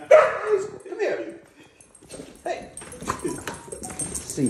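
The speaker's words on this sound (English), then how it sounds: "he's a golden doodle" A mini golden doodle puppy gives a sharp bark followed by high whimpers and yips, close by, interleaved with a person talking to it.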